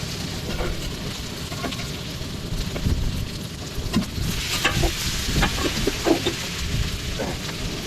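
Tuna fish coated in chili masala frying on a hot dosa griddle outdoors by the sea, a continuous hiss and crackle with scattered pops and scraping taps, over a rumbling wind-like background.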